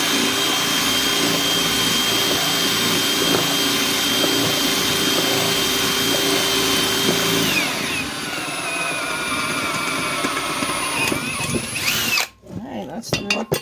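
A power drill whines steadily as it bores through wood from the back, loud and close, then the pitch shifts and the motor winds down near the end.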